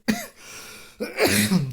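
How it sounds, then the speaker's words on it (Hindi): A man coughs twice in a quiet room, with a sharp first cough and a rougher second cough after a short pause, both loud and close. "सॉरी माफ़ कीजिएगा, खांसी हो रही है।"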